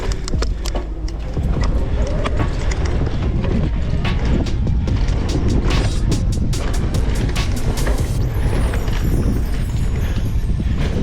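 Loud, continuous wind buffeting the microphone while riding a Fezzari Timp Peak enduro e-mountain bike, a dense roaring rush with rattling bumps from the trail.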